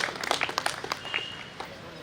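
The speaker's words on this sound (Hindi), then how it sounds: "ज़ोरदार तालियों से इस्तकबाल कीजिए मोहतरमा किरण यादव साहब" An audience gives a round of applause to welcome poet Kiran Yadav at a poetry gathering. The clapping is scattered and brief, with a voice faintly mixed in.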